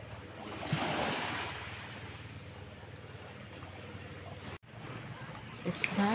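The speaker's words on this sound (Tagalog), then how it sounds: "It's nice to hear the splashing of the waves on the shore" Waves splash steadily along a seashore, a broad wash of surf and wind noise that holds fairly even throughout, briefly dropping out near the end before resuming.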